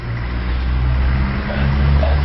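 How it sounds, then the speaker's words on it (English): A truck van drives down a road in Croatia or Bosnia, a low engine rumble and tire noise building slightly, close and steady without talk. "there's a truck van coming down the road."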